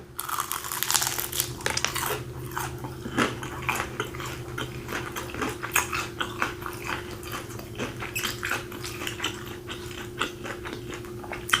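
Crisp, rapid crunching and crinkling from biting and chewing a crunchy Publix chicken wing, close to the mouth, continuing steadily for several seconds with irregular bursts over a low steady hum.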